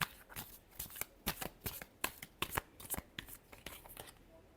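A quick final shuffle of a tarot deck: rapid, close card flicks and riffles in an uneven rhythm, fairly quiet and heard alone without any voice.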